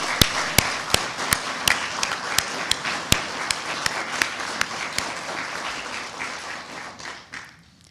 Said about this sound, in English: give your friends and family a big round of applause to show your appreciation for the support they have given you